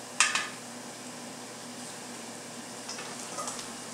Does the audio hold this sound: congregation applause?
no